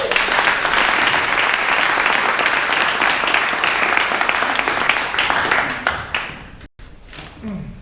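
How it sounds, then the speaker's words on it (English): Audience applause at the closing session of a virtual reality conference: sustained, full crowd clapping that holds strong for several seconds, then thins out and fades with a sudden short gap near the end. "Can I have an applause,"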